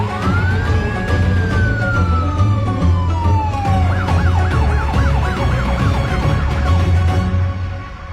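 A police car siren wails loudly up close, one long rising and falling sweep that switches to a rapid yelping warble, over engine rumble and street noise.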